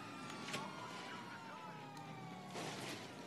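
In the video game GTA 5, a police siren wails faintly and steadily beneath constant car and traffic noise during a chase.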